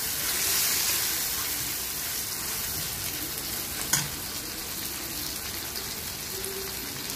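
Onion, tomato and green chili frying in meat oil, a steady broadband sizzle with stirring throughout and one brief knock near the middle, no voices.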